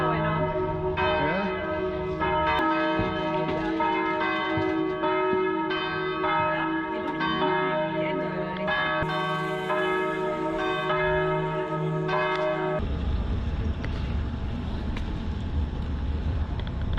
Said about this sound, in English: the square and the bell tower of the Church of St. Catherine